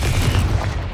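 A single Confringo fire spell from Hogwarts Legacy bursts close and loud, a dense rumbling fiery blast that fades quickly within about a second.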